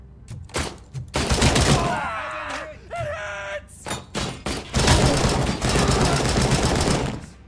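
Rifle fire in the RoboCop: Rogue City video game, loud rapid bursts of shots in close succession with short pauses and a brief mechanical whir midway, a voice speaking briefly between volleys.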